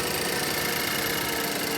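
2012 Ford Mondeo engine idling smoothly, a steady, even hum with no rise or fall, close and fairly loud, heard alone with no talking.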